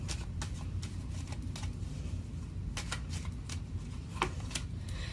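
Tarot cards are shuffled close up, a continuous soft riffling and flicking of card stock with a few sharper snaps as cards are drawn.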